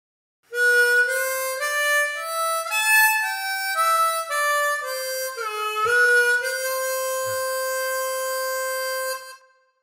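A harmonica plays a melodic phrase of the Irish air Oh Danny Boy, a flowing run of connected reedy notes rising and falling, ending on a long sustained note, played alone without voices.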